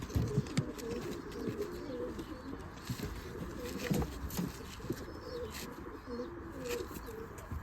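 Pigeons coo repeatedly in soft, low rolling calls, several birds overlapping, with faint rustling and background chatter.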